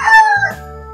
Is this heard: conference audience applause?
no